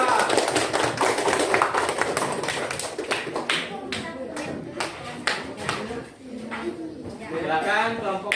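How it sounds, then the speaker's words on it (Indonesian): A classroom of students claps for a presenting group, with loud dense applause at first that thins into scattered claps, while voices chatter and talk over it. "beri tepuk tangan dulu untuk kelompok"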